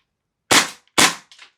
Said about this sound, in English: It definitely changes the report of the pistol.